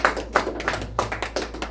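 A round of applause at the close of a farewell address, a burst of hand claps with sharp irregular taps rising over a steady low hum, fairly close and moderately loud.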